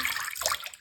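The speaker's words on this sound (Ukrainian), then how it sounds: "Додаю знову трішки води" A brief, close splash of water pouring steadily into a bowl of bread dough, lasting under a second.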